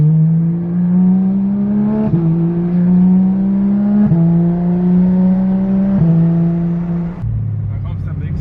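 A Porsche 991.2 GT3 RS flat-six revving hard with a loud exhaust, its pitch climbing steadily through several sustained pulls, each cut by a brief drop, then settling lower at the end, very close and loud.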